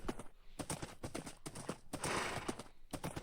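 A horse in a video game level, its hooves clip-clopping in a quick, steady rhythm of close, crisp knocks that carry on without pause and with no talking.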